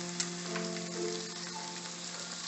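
Fresh spinach sautés in a hot pan with garlic, giving a steady, even sizzle and crackle that stays at one moderate level throughout, with no voices.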